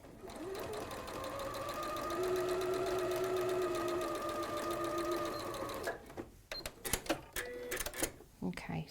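A sewing machine stitches a quilt in one steady run of about six seconds, a fairly quiet, even hum of rapid stitches that stops abruptly and is followed by scattered handling clicks.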